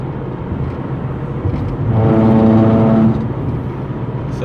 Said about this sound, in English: Oh, there's my daughter's bus.